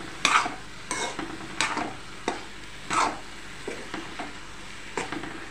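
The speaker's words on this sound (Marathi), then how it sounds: "आता आपल्याला यामध्ये हे जे मटार घेतलेले आहेत तर ते मटार टाकून घ्यायचे आहे आणि छान असं आपल्याला हे मिक्स करून घ्यायचं आहे" Green peas stirred into fried masala paste in a pan, a spoon scraping through in repeated strokes about once a second with a soft sizzle underneath, close by.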